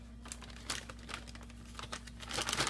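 Plastic bag crinkling as it is packed with raw kale salad, a run of irregular close rustles and crackles that swell louder toward the end, with a steady low hum underneath.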